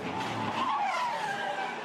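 A race car skids off track after its engine fails, with a sustained, loud tire squeal and engine noise, the screech shifting in pitch over a couple of seconds.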